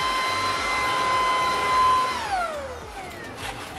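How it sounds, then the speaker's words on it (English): A household vacuum cleaner runs at steady full power with a strong whine, then powers down, its pitch gliding lower as the motor winds down near the end, with no talking over it. "this is my new vacuum cleaner. I just want to show you guys really fast. I don't want to make too much noise."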